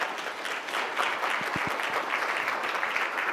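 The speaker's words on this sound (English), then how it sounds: "Big round of applause." Small audience at a sponsor breakfast applauding after a presentation, a steady patter of many hands clapping at moderate level with a few sharper nearby claps in the middle.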